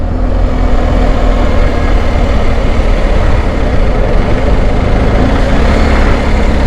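A BMW R 1250 GS Adventure HP motorcycle rides through New Jersey in the morning, its engine a loud, steady, close rumble mixed with constant road and wind noise.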